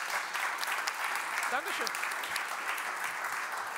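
Audience applause at a German corporate conference session, steady clapping throughout at moderate level, with a brief spoken thanks from a presenter over it.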